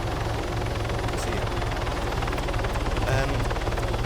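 A helicopter in the Arma 3 video game gives a steady, close rotor chop and engine whine throughout, with a voice faintly talking under the noise.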